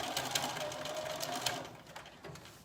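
A sewing machine runs a seam allowance around a skirt's pocket bag, a steady rapid whir with small clicks, fading slightly toward the end, close and moderately loud.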